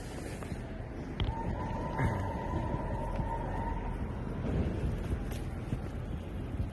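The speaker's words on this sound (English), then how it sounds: "Let's follow this ambulance and find out where it goes, what happened, and who's dead." An ambulance siren in a video game holds a steady wailing tone for a few seconds, moderately faint over a continuous rumble of traffic and wind.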